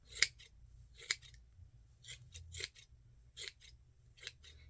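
Heavy-duty scissors snip through yarn while a cardboard pom pom maker is trimmed into a jumbo pom pom. The cuts come as a series of crisp, close, irregular snips in a quiet room.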